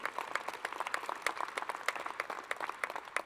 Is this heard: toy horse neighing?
no